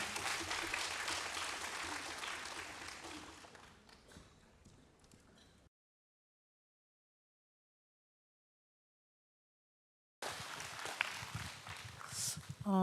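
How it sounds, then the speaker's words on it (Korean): A church congregation claps in welcome during a worship service, a fading wash of applause that drops to silence, then resumes noisily near the end. "박수로 환영하겠습니다"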